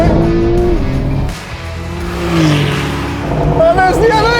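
Porsche 911 Turbo accelerating hard in a drag race against a Mercedes-AMG GT and BMW M8, its engine loud and close with rising and falling revs and gear changes, while excited voices talk over it.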